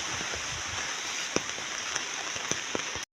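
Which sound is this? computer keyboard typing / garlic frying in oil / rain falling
rain falling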